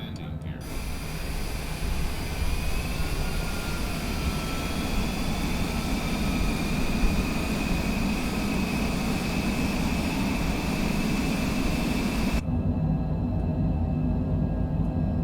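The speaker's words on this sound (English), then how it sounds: "I'm going to lower my gear and flaps now" A Cessna in Flight Simulator 2020 on approach to Boston, lowering its landing gear and full flaps, heard as a steady, loud cockpit engine and wind drone that runs unbroken for about twelve seconds before suddenly cutting off.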